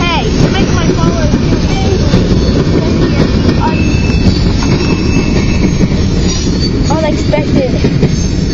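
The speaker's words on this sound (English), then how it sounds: "freight train, yes. Switching tracks by the looks of it." A freight train switching tracks rumbles loudly nearby, wheels squealing and clanking over track joints, with a few voices talking beneath the noise.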